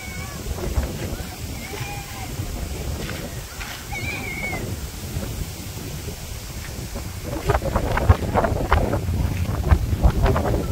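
Wind blowing outdoors in a village market area, rumbling gusts buffeting the microphone and strengthening toward the end, with faint voices and a brief mewing sound in the background.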